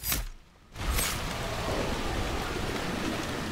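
In the fantasy video game Dragon Age: Inquisition, heavy rain pours down as a dense, steady hiss, with a brief dip near the start.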